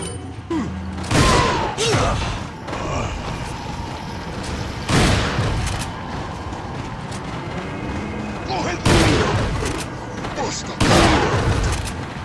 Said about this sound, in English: Alright, we're just gonna use the shotgun.